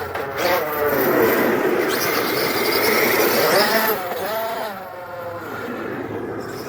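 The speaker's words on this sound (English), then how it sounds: "I like the sound of these tires." An Arrma Outcast 8S EXB RC car's motor whines and revs while tires squeal and scrub across a surface, with shifting pitch as the car slides and turns.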